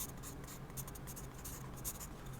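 A pencil scratches across paper in a quiet ASMR recording, with close, soft, continuous strokes and short rhythmic bursts of graphite friction. No one speaks.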